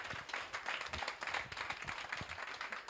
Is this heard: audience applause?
yes